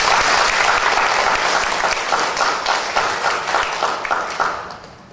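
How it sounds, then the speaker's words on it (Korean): A church congregation applauds warmly during a Sunday worship service, dense sustained clapping filling the room from start to finish and easing off slightly toward the end. "뜨겁게 박수하겠습니다"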